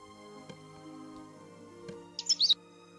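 A bird in the video game The Book of Unwritten Tales 2 gives a brief burst of quick, bright chirps near the end, over a quiet sustained musical background.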